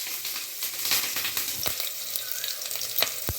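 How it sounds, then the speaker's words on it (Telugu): Onion frying in oil with fenugreek seeds and curry leaves for a fish curry, giving a continuous bright sizzle with a few sharp spatula clicks, close and fairly loud, no voices. "బాగా ఆయిల్లో ఫ్రై అవ్వాలి"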